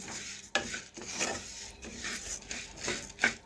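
Puffed rice stirred in a pan over a gas stove makes a dry, rasping scrape, repeated in uneven strokes about every half second, close and fairly quiet.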